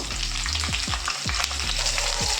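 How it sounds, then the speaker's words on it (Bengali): Pointed gourd fries in a pan with nigella seeds and salt, giving a steady, close sizzle. Repeated scraping sounds of a spatula stirring come through, and no one speaks. "শুধু লবণ দিয়ে আমি পটলটাকে একটু ভেজে নেব"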